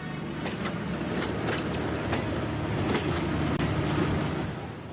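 A train at a busy Swiss railway station, with a steady loud rumble and several sharp rail clicks and squeals spread over a few seconds, close by and without voices.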